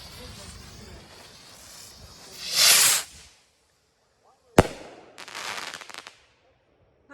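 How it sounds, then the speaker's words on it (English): A Cutting Edge Fireworks USA rocket gives a rising whoosh, then a sharp bang and a crackling burst that fades out, heard fairly clearly against a quiet background. "All right, rocket number 1, cutting edge, USA rockets."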